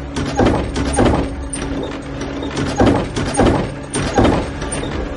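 An upstairs room door in an old village house bangs and rattles loudly in a horror story sound effect, with repeated heavy knocks and creaking mechanical scraping over a constant rumble and no voices.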